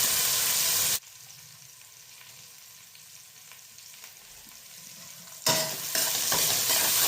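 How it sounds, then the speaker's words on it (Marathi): Sabudana khichdi being stirred and sautéed with salt in a pan: soft scraping and a gentle, quiet sizzle, with louder bursts of frying noise at the start and end. "छान परतून घ्यायचं."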